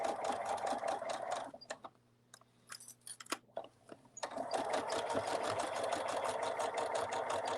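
A sewing machine stitches a seam on a fabric cuddle bunny toy in a rapid, close mechanical patter, stopping briefly for a few clicks and handling sounds before running steadily again.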